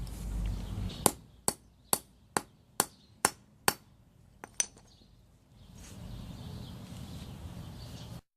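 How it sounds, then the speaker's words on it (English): Eight sharp hammer strikes on metal in a steady rhythm, then two quicker taps, followed by a low background rumble. "If your vice grips aren't working, you could always use a hammer."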